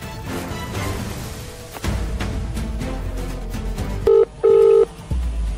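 A telephone in a short film gives a few short electronic tones near the end, loud and clear after a stretch of quieter room sound.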